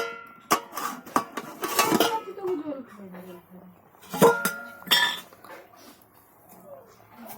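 A lid is lifted off a cooking pot on a home stove, giving a few sharp metallic clanks and clatters in the first seconds, with someone talking around them.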